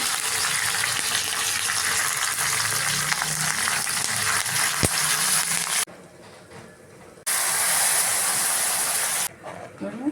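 Fenugreek, cumin, mustard seeds, urad dal, chili and curry leaves fry in hot oil for sambar, making a loud, crackling sizzle that cuts out abruptly twice and then resumes, with faint stirring beneath.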